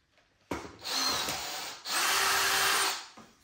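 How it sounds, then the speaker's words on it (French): A power tool whirs against a drywall screw in two bursts, the first about a second and a half long and the second about one second, loud and close, with no voices. "je voulais essayer de dévisser cette vis"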